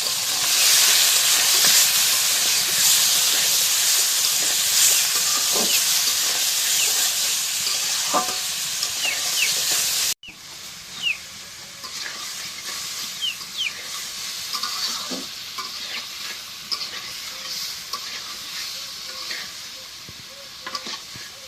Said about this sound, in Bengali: মাংসটা দিই। এখন নাড়া দিই।